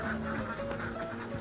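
A flock of ducks quacks and calls in a pen while droppings are cleaned out, with several overlapping, close and fairly loud calls over continuous background noise.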